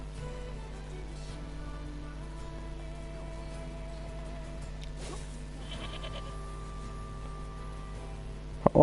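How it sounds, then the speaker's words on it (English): A sheep bleats in the video game NieR Replicant remaster, a faint bleat set against a quiet steady game ambience, with a sharp loud hit at the very end. "How armored was that sheep?"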